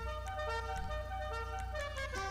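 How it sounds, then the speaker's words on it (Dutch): A Christmas-themed car horn in the video game GTA V plays a melodic run of bright tones over a constant low engine drone, the notes shifting in quick succession throughout. "Zit de kerstmishoorn er weer in? Ik moet even de kerstmishoorn aanzoeken."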